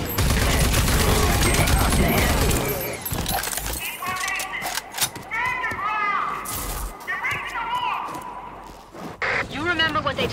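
Gunfire in Rage 2, a dense roaring volley at the start followed by scattered shots, while high chattering game voices and bleating creature cries play over the action.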